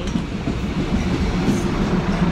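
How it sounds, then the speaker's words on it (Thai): A train rolls through a railway station, a loud, steady low rumble of wheels and carriages close by, with no talking. "นี่รถไฟเปิดไฟเห็นไหม"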